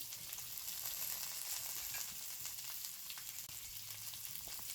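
Boiled potatoes go into a frying pan while making potato and red lentil dal, producing a soft, steady sizzle with faint stirring ticks at low volume.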